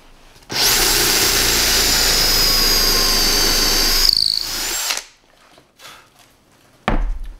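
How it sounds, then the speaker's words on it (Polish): A drill with a ground HSS bit, around 13 mm, bores steadily into wood for about four seconds with a high whining tone, then winds down, followed by a short thud. "Mówiłem też, jak szybko te wiertła pracują,"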